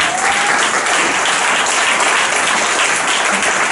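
A church congregation applauds and acclaims the Lord during a French-language sermon, giving a loud, continuous wash of clapping that holds steady for the whole stretch with no talk over it.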